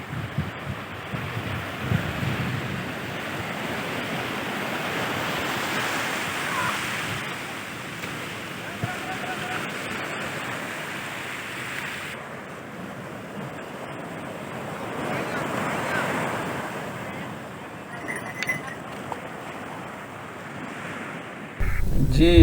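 Sea waves surge and wash steadily along the shore at Mubarak Village beach, Karachi, with heavy wind rumble on the microphone throughout and a brief louder knock at the very end.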